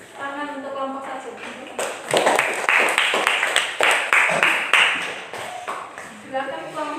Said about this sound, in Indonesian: Silakan berikan tepuk tangan untuk kelompok 1.